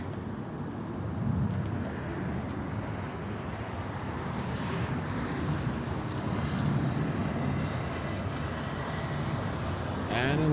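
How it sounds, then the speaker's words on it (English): American Airlines jet in from Las Vegas rolling off the runway at LAX, a steady broad engine roar and rumble heard from a distance, continuous and fairly loud with a faint voice under it. "American 2105 flying in from Las Vegas, Nevada, exiting the runway."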